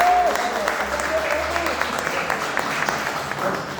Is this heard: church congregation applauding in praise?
yes